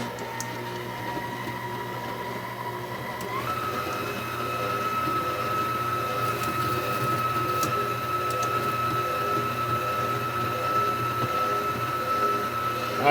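Stand mixer with a paddle attachment beats peach cobbler pound cake batter in a steady, close motor whine that shifts up in pitch partway through and then holds evenly to the end.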